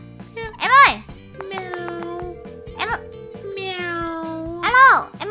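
Cartoonish cat meows in Roblox, several loud, bright mews spaced across a few seconds over a steady musical backdrop, with speech mixed in.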